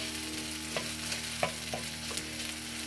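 Onions hitting a hot pan already holding browned pork, frying at medium heat with a steady sizzling hiss and a few soft stirring clacks, close up with no talking.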